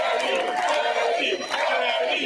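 A crowd cheers and shouts for the city's first Latino police commissioner, a dense, sustained roar of many voices at moderate distance with no clear single speaker.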